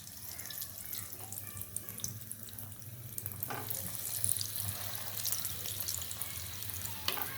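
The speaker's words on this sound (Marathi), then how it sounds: "आता आपण ते डीप फ्राय करून घेऊया. एक एक करून असे तेलामध्ये सोडूया." Potato corn cheese balls deep frying in hot oil give a steady, close sizzle and hiss throughout, with a brief splash or clatter partway through as more go in.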